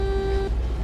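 A plow truck's odd little horn in American Truck Simulator gives one steady, thin electronic tone for about half a second, then cuts off, leaving engine rumble underneath.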